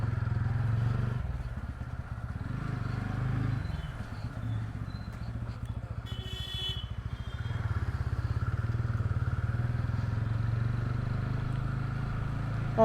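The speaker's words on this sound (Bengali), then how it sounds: "বাইক ওয়ার্ম আপ হয়ে গেছে, সো আমরা এগোবো।" A TVS Ronin motorcycle rides the NH-12 highway near Krishnanagar toward Kolkata, its engine giving a steady, low rumble with wind and road noise throughout and a brief rattle partway through.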